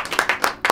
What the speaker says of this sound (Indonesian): Tepuk tangan buat kita semua ya.